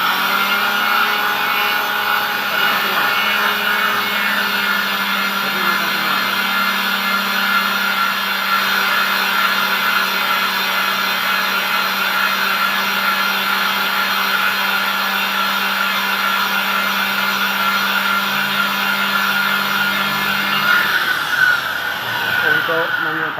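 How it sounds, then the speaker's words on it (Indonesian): A sanding disc on a power tool grinds a DT 500 PTO part, giving a loud, steady, close whirring drone for about twenty seconds before winding down, with voices now and then underneath. "Untuk menyingkat waktu pengamplasan, kita menggunakan katam Diko"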